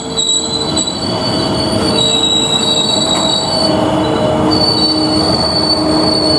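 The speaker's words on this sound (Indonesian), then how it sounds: "Mari kita lihat proses memberangkatkan kereta api" A train departs a station, rolling steadily with loud, sustained high-pitched wheel squeal over a rumbling, clattering base, continuous and close throughout.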